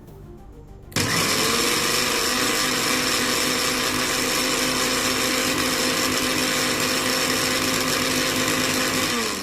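A cheap mixer grinder starts up after a second of quiet and runs loudly and steadily to the end, a harsh, droning motor whine with no talking.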